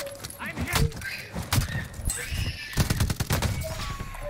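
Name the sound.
gunfire from Call of Duty: Warzone video game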